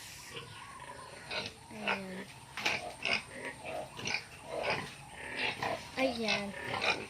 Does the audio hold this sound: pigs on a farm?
yes